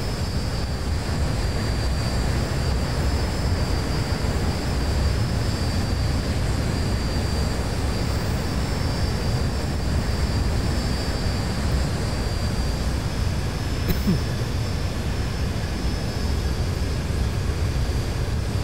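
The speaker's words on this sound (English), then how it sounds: "Fantastic aircraft. It's KLM aircraft." Engines of a KLM Boeing 737 in the X-Plane 11 flight simulator produce a constant, even, roaring hum with a faint high whine, steady and unbroken for the whole stretch.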